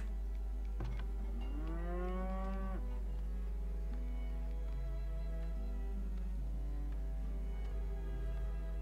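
A cow in the frontier settlement game Farthest Frontier gives one long, loud moo over a steady low hum, followed by quieter lowing and faint farm ambience.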